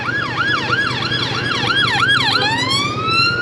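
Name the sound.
ambulance siren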